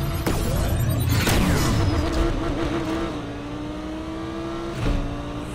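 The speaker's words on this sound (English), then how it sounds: "Hear that car shift through them gears." An Audi revving hard in Need for Speed Unbound, loud and close, with engine pitch climbing and dropping through several quick gear shifts.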